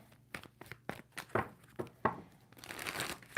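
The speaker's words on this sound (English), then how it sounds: "2 more shuffles." A deck of tarot cards is shuffled up close, giving a quiet series of sharp papery riffs and snaps, then a longer soft rustling flutter.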